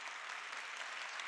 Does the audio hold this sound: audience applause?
yes